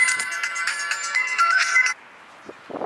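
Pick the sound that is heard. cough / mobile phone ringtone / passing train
mobile phone ringtone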